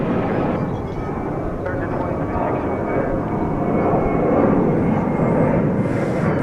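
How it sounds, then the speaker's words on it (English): Airbus A330-300 airliner at DFW Airport, a steady broad engine roar holding loud and continuous throughout, swelling slightly toward the end as the jet passes. "This is a A330-300."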